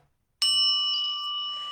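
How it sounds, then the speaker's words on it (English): A single bell struck to open a distant Reiki healing ceremony rings out clearly after a short silence, its bright, steady tone sustaining and slowly fading. "following the invocation, you will hear a bell"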